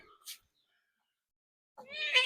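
A pet cat lets out a loud, drawn-out meow close by, preceded by a brief short sound and a pause of silence.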